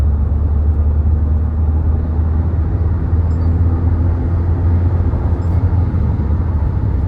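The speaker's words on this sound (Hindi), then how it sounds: "मैं जूम पे करता हूँ और गाड़ी एकदम से बहुत फास्ट हो जाती है" A Mahindra XUV700 accelerating hard, heard from inside as a steady, loud low engine drone with a humming tone that holds throughout without breaks.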